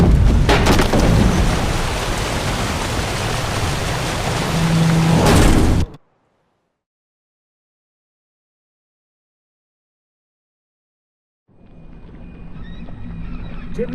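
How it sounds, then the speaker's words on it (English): Storm at sea in Witcher 3, heavy rain and rumbling thunder roaring loudly for several seconds, cutting to near silence, then returning more quietly. "Didn't bargain for no storm."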